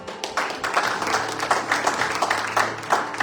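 A church congregation applauding during a Spanish-language sermon, a dense, steady patter of many hands clapping close by for a few seconds.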